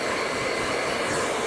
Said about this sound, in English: using your hair dryer on high heat and high speed